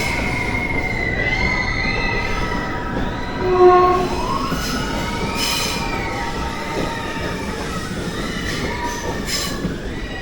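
From inside a passenger train travelling through the dark near the Kollam–Punalur line, a steady rolling rumble carries whining wheel squeals and a brief louder clank midway. The sound runs continuously, with no one speaking.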